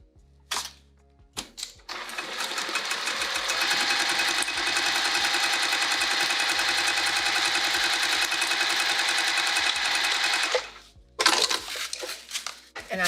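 A sewing machine stitches pieces of a vinyl bag, a steady continuous mechanical whir with rapid needle ticks running unbroken for about nine seconds, then stopping, with brief handling clatter on either side.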